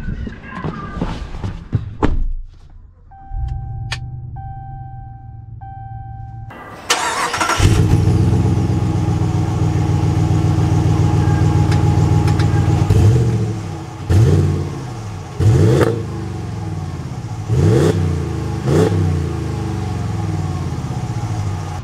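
Ram 1500 Black Widow pickup truck: a few clunks and a chime, then the engine starts with a deep burst and settles into a loud steady idle, followed by several throaty revs as it pulls away.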